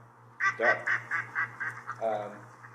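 Duck quacking in a marsh along the Hudson, a run of about eight evenly paced nasal quacks followed by a longer, lower call, close and clear over a soft low hum.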